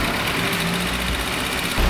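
A car engine idles with a steady, even drone after an extreme flush with dimethyl sulfoxide and diesel and fresh oil, and the hum swells slightly at the very end.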